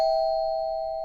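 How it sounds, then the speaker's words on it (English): A doorbell rings with a single sustained electronic tone, steady and clear, fading slightly across about a second with no talk. "back-to-back doorbell ringing episodes"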